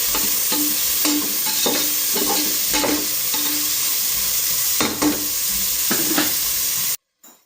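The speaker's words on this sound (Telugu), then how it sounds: "ఇంకెక్కడైతే తాలింపు కూడా పెట్టుకున్నాను అనమాట." Tempering sizzles in a hot pan with a steady close hiss, while a spoon stirs in repeated short scrapes. The sound cuts off abruptly near the end.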